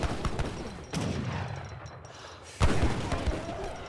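Hakkapelit cavalry firing guns in a real-time strategy game, with bursts of crackling gunfire in clusters and two sharper volleys, loud and close, over a busy battle background.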